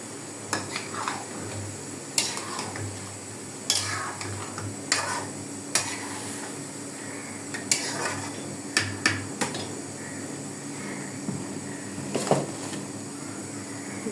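Beef curry is stirred in a cooking pot with a metal utensil, giving irregular scrapes and clanks against the pot over a steady low sizzle, close and moderately loud.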